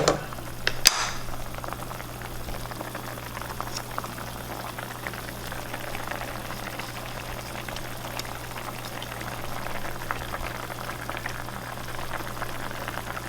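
Okra soup bubbles steadily in a pot, a continuous close burble and simmer with a sharp clank near the start.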